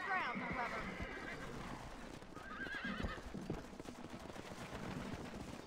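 Horses in the Western video game Red Dead Redemption give two whinnies over a steady clip-clop of hooves, with faint background game sounds and murmuring voices underneath, moderately close throughout.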